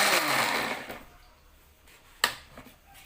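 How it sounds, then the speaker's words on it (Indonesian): A kitchen blender grinds a spice paste in a loud whirring burst that fades out as it is switched off, followed by a sharp click and quiet handling noise, with no talk. "Kalau aku sih lebih suka di blender karena lebih cepat dan enggak ribet."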